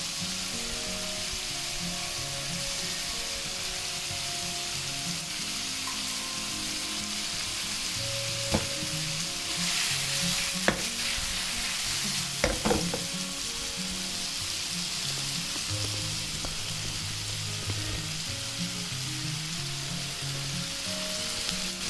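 Prawns sizzle steadily in a spoonful of oil for a Kundapura-style ghee roast, an even hiss of frying with a few sharper spatters and occasional stirring clinks, close and continuous with no voices.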